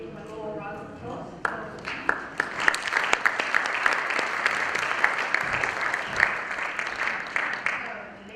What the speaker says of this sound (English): Then we have a little round of applause.